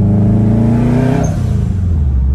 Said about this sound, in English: I put a new blow valve on it.